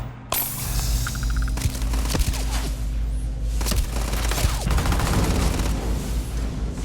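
Gunfire in the video game Starfield, loud shots and rattling bursts over a low rumbling hum, with sharp cracks scattered throughout and a dense volley in the later seconds.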